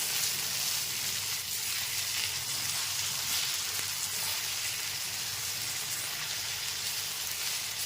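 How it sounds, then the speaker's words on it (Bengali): Tomatoes cooking with salt in a frying pan give off a steady, even hiss of sizzling, close and constant throughout with no distinct stirring strokes and no voices. "লবণটা দিয়ে খুব ভালো মতো মিশিয়ে নিচ্ছি"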